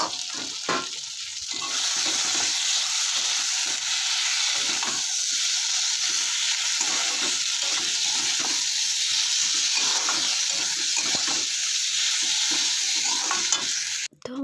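Fish sliding into hot oil, then a steady loud close sizzle and hiss of frying that runs on evenly with no voices.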